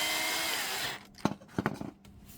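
A power drill first whirs steadily for about a second while driving a screw into a snowblower frame, then stops, followed by a few short knocks and handling clatters of the tool and parts, close up.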